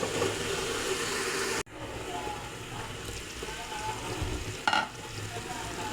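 Duck meat curry sizzles and fries in a pan, a steady broadband crackle that cuts out abruptly partway, then resumes more softly with a brief clatter near the end.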